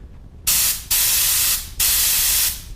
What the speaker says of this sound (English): I just put a little blower on just to show you